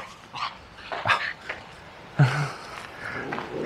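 A dog barks outdoors during an evening walk in Nymburk, letting out a series of sharp, close barks and yelps with short gaps between them.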